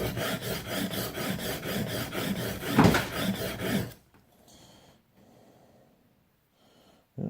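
A knife blade rasps back and forth on a sharpening stone in quick, regular strokes near the heel, close and loud for several seconds, then stops, leaving faint scraping and near quiet.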